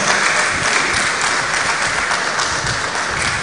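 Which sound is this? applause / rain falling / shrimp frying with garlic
applause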